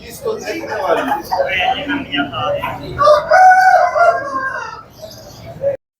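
An Aseel rooster crows loudly and close by at a rooster market in Lari Adda, a long drawn-out call that rises and trails off, with a voice speaking in the background.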